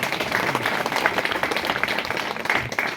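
Audience clapping during a Telugu Christian sermon gathering: a dense, steady wash of applause sustained for three seconds at moderate level, with no pauses.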